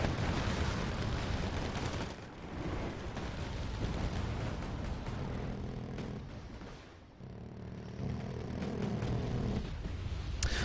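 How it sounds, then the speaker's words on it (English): Artillery shells landing on supply units in Wargame Red Dragon, a dense continuous barrage of booms and explosions that roars loudly throughout, with brief dips between volleys and no talk. "Receiving artillery fire on my supplies there."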